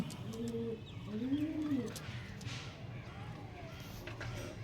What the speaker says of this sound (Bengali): নতুন জায়গা পায়রা একটু ভয় পাচ্ছে